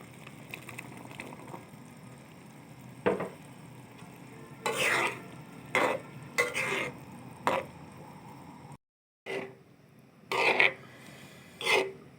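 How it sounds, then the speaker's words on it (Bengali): Chopped coconut is stirred into pickle masala in a pan for a coconut pickle. A spatula scrapes through the mix in several short bursts with pauses between them, over a faint steady sizzle, close up and without talk. "এখন আমি কুচি করে যে নারকেলটা রেখেছিলাম এটা দিয়ে দিচ্ছি।"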